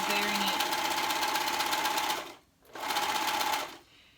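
A sewing machine stitches a maxi dress seam in a steady, fast whir that runs for about two seconds, breaks off briefly, then starts again for a second burst before stopping.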